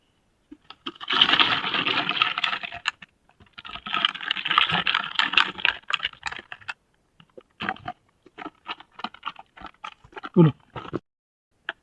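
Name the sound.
shaking NPK fertilizer mix in a sprayer tank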